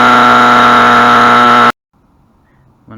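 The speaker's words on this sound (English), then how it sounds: "Sounds a bit like a nitro engine on a remote control plane or car." A Lexmoto XTRS motorcycle engine runs with a steady, loud, buzzy drone like a nitro RC engine for under two seconds, then cuts off abruptly, leaving near silence and a faint noise at the end.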